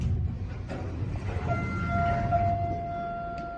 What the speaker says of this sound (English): This one kind of rumbles a bit.